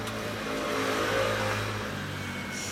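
Kawasaki Ninja ZX-14R motorcycle fitted with a Yoshimura exhaust revs up, a loud, close engine roar that swells toward the middle and then eases off, heard alone.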